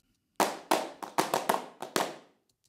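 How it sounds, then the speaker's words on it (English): Programmed hand clap sequence from the HandClap Studio plugin, set to the harder clap: seven sharp, dry claps in an uneven pattern, loud and close, each with a short room tail, then silence. "And if you press Control, the clap is harder."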